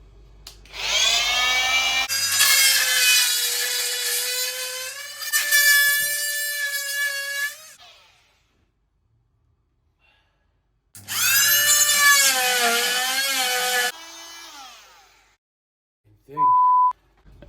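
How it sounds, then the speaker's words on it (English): A power tool blade cuts through a battery cut-off switch mounting part on a racing lawnmower, giving two loud, shrill screeching bursts with sweeping whine, separated by a long silent gap, followed by a short beep. "we've just cut through it and ruined the blade"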